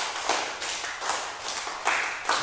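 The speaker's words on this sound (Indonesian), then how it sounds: "Gerakan yang terakhir atau gerakan yang keenam adalah gerakan tepuk tangan." Hand claps performed as a dance movement in a school lesson, a steady series of about eight crisp claps at an even rhythm, moderately close with no talk.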